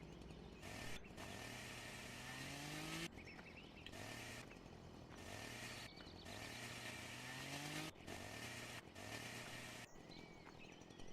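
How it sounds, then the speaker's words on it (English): Chainsaw cutting up a tree in the video game Farming Simulator 2013, the engine revving repeatedly in rising whines and dropping back between cuts, loud and continuous, with brief gaps. "Now I'll grab the saw."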